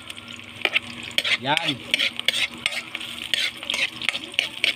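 Chili and salt stirred and fried in a pan outdoors for lechon paksiw, with a loud sizzle under repeated scraping and clanking strokes of a spatula, close by; a brief word is spoken.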